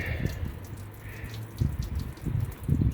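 Coolant water drains out of a 1954 Ford Popular 103E cooling system, a soft, steady trickle with splashes close by that grow louder in bursts toward the end.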